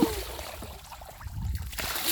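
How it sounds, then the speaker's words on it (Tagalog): Seawater splashes at a mangrove shore as children scoop it with a plastic dipper, a short, fairly faint slosh and spatter over soft background noise. "splash"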